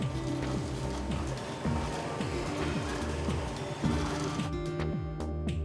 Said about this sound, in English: Even this 3D printer was built by the engineers.